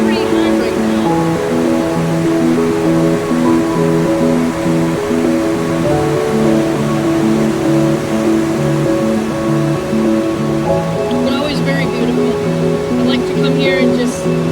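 High, fast glacial river with turquoise water near Hatcher Pass, Alaska, rushing steadily in a broad continuous roar that stays close and loud throughout, with faint tonal hum layered over it.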